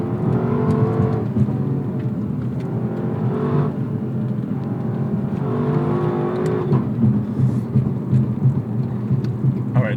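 A 2018 Lexus LC500 V8 engine revs hard and steadily through gear shifts, its low harmonic drone rising and falling in repeated surges. The roar is loud and close, with no talk over it.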